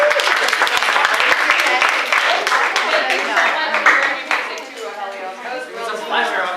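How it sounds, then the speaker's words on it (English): Audience applause after two presenters share a talk at an event, dense steady clapping from a crowd that carries on throughout and eases slightly toward the end. "How about a round of applause?"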